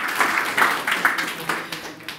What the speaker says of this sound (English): But give yourselves a round of applause.